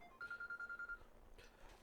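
A telephone rings for an incoming call with one short burst of rapid electronic pulses, faint and heard alone, followed by a brief soft rustle.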